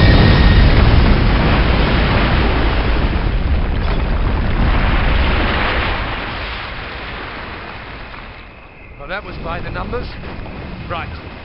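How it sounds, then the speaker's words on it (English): A demolition charge brings down a train bridge in Call of Duty: United Offensive, with a loud, sustained rumbling roar that slowly fades. Brief voices and lighter debris sounds follow near the end. "Detonate on my command."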